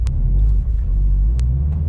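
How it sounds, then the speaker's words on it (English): A 305 hp Subaru WRX STI engine being brought up in RPM during a street launch attempt, heard as a loud, steady low rumble, close by and without speech. "Let's go ahead and give it a little bit more RPM."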